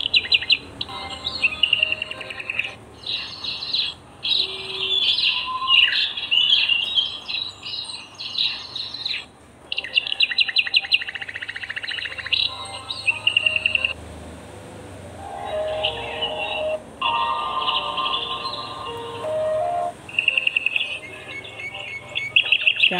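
Golden-coloured wild birds chirp and call in nature, with many bright tweets and short trills in irregular bursts, some near and loud, alongside faint insect buzzing.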